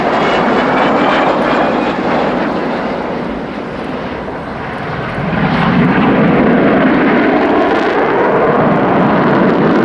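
A powerful jet engine roar from the Avro Vulcan bomber XH558 at an air show fills the air, dipping slightly then surging louder as the aircraft passes close by, a continuous thundering rush.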